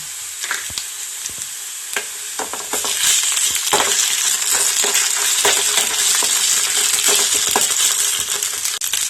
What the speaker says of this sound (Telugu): ఉల్లిపాయ పచ్చిమిరపకాయ బాగా ఎగింది కదండి దాంట్లో కొంచెం అల్లం వెల్లుల్లి పేస్ట్ వేస్తాం